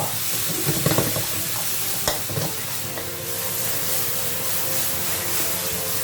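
Shallots are dry-roasted in a wok for pork krapow, giving a steady close hiss and sizzle with a few scraping strokes of a utensil near the start.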